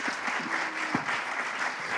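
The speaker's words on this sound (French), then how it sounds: "merci de les applaudir" An audience at a presentation of a regional catalogue of low-carbon solutions claps together, a full, sustained round of applause with a few sharper individual claps standing out near the middle.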